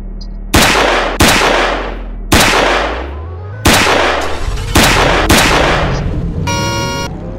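Loud gunshots in a Roblox game ring out one at a time, about six heavy booms with long decaying tails, spaced roughly a second apart, ending with a brief rapid buzzing burst.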